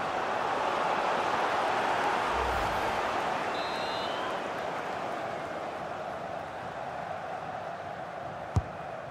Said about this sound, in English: Derek, listen to the crowd.